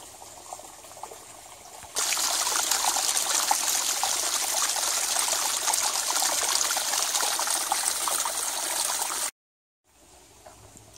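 The St. Joseph River runs past a nature preserve in a steady broadband rush of flowing water, loud and continuous for several seconds before cutting off abruptly.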